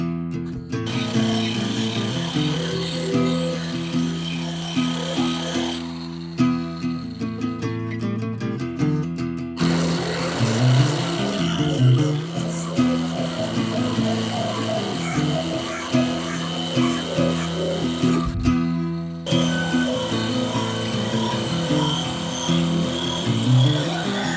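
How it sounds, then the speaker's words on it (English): An Eastwood Contour SCT stripping wheel grinds through several layers of paint and body filler, a loud continuous whirring abrasion that rises and dips in pitch with a short pause partway through. "even with a combination of several layers of paint and body filler, it was able to eat right through it and not clog up the wheel"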